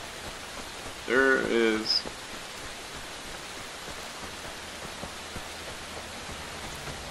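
Steady rain falls in the survival video game Fear the Wolves, a constant hiss of drops throughout, with a brief spoken phrase near the start.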